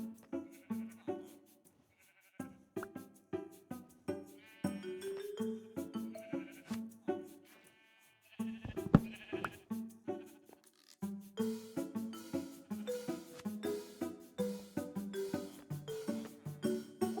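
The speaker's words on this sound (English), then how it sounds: "We need to get rid of this sheep farm and move it over there" Minecraft sheep in a farm pen bleat over and over, several overlapping game bleats repeating steadily with a brief pause midway.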